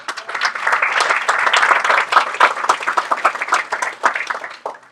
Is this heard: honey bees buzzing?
no